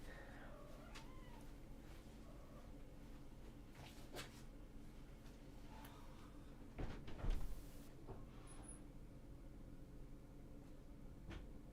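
A cat meows faintly while going after yarn indoors, with a few soft knocks and a louder rattle partway through, all fairly quiet in a still room.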